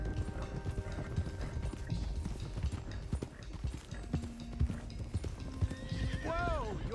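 Horses from Red Dead Redemption 2 clatter in rapid galloping hoofbeats while one gives a loud rising-and-falling whinny near the end, set against steady game ambience.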